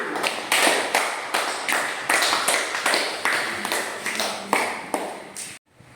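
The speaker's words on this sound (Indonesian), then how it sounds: "Kita beri tepuk tangan untuk kelompok 1." A small class claps for a student group in a classroom, a close, steady run of sharp rhythmic claps that stops abruptly.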